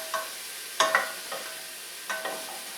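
Mushrooms cooking in a pan, a low background sizzle broken by several short scraping stirs and clinks of a utensil at irregular intervals, nearby and fairly quiet.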